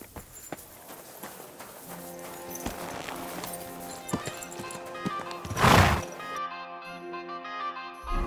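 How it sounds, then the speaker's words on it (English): A horse in the medieval game Kingdom Come: Deliverance II, with hooves clip-clopping at a walk and a loud whinny near the end, set against a music-laden game soundscape. "My, what a beautiful horse."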